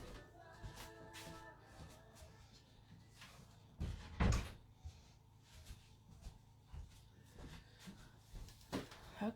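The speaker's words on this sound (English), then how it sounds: "I'm going to shut the door." A door is pushed shut at home with a single solid thud, preceded by a short rattle of handling and light shuffling movement in a quiet room.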